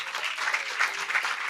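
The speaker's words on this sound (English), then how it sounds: "Let's have a big, boisterous round of applause." An audience at a live Cambridge show gives a big round of applause, dense continuous clapping at steady loudness over a short burst.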